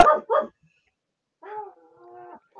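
A little pet dog lets out two sharp yips close up, then after a pause a thin whining whimper trails off, alone without talk.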